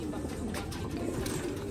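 A pair of pigeons from Taiwan coo in soft, throaty, rolling calls, close by and repeated over a brief moment against low background noise.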